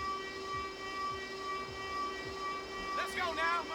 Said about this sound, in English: There goes that siren once again